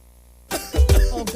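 A single harsh cough, close and loud, following a short quiet lead-in, with a rough throaty burst that trails off.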